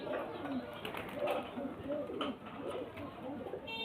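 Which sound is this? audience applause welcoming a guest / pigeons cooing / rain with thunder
pigeons cooing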